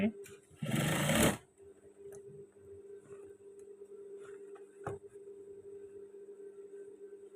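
A sewing machine stitching trousers gives one short, loud whirring burst near the start, then falls to a quiet hum with faint handling clicks.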